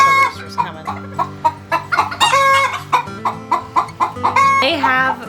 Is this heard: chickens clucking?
yes